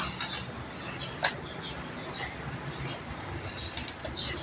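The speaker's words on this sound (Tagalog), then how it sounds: "Ilalabas po natin sila doon para sa cage nila para makaano sila ng mabuti, makapagpag ng pakpak" Caged birds flap their wings after release, a burst of fluttering wingbeats near at hand with faint chirps above over a low background hum.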